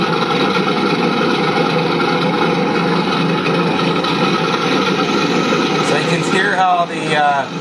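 A Heng Long RC toy tank's synthesized stock engine sound hums in a steady, buzzing idle, close and constant, with a short wavering burst near the end.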